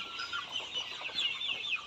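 A flock of about two thousand broiler chickens, 48 days old, on a poultry farm makes a faint, continuous chatter of overlapping high clucks and peeps with no voices over it.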